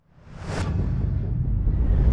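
A Volvo EX30 electric car passes at speed on a high-speed test ring, a rising whoosh of wind and tyre roar that swells into a deep rumble as it nears.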